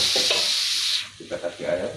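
Chicken feet are stirred in a pan, a loud hiss of sizzling for the first second, then softer scraping and clattering as the pieces are turned.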